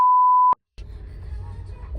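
A censor beep: one steady pure electronic tone lasting about half a second, loud and clean, then cut off; after a short silence a voice talks quietly.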